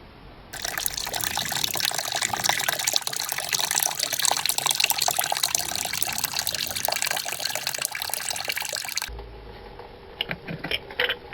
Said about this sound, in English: Let the water drain out of there.